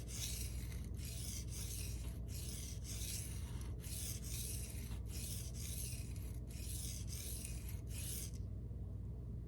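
Elmax steel knife, 61 to 62 HRC, sharpened by hand: repeated rasping strokes of blade on stone in an even rhythm, about a dozen close passes, then stopping near the end, with no talking.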